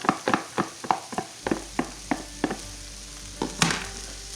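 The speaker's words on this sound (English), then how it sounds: "3 cups of cold white rice. Into the pan we go." Cold white rice hits a hot pan and gets stirred, giving a string of sharp scraping and tossing knocks over a soft sizzle that settles into a quieter hiss.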